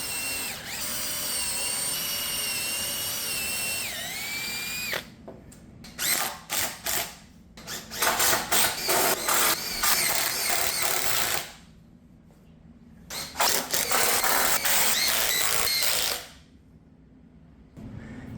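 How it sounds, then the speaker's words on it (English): A power drill drives screws into wooden boards while a frame for a turkey poult pen is built, long steady whirring in repeated bursts with short pauses between them, loud and close, with no talking. "We're going to throw 4 screws in both of these somewhere around here, so we get 2 screws in each board."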